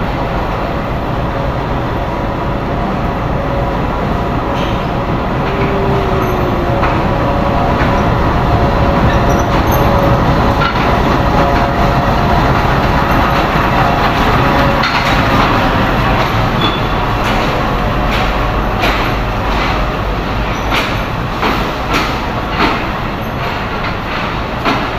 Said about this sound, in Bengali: বন্ধুরা, এই যে ট্রেন যাচ্ছে